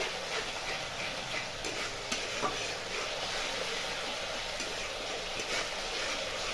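A spice mixture fries in oil for papad dalna, giving a soft, continuous sizzle at low level with faint scattered clicks and crackles. No one speaks.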